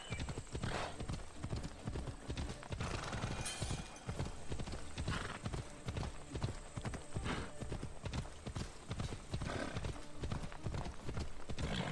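Rhythmic hoofbeats of a galloping unicorn mount in the Ancient Greek game Assassin's Creed Odyssey, steady loud clip-clop throughout with a brief whinny, over game music and ambience.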